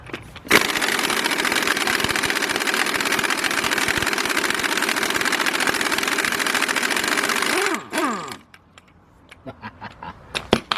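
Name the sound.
impact wrench removing harmonic balancer bolt, Nissan Maxima engine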